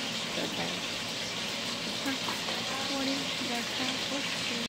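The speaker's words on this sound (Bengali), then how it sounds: "অলমোস্ট কমপ্লিট হয়ে গেছে আমার চিকেনগুলো সুন্দর করে ফ্রাই করা" Pieces of chicken fry in oil with a constant sizzling crackle, while someone talks over it.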